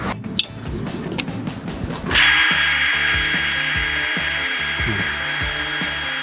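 A Domax screw-in post base being driven into the ground, first with scraping and clanking, then a loud steady power-tool whine with rhythmic ratcheting knocks underneath, close and continuous.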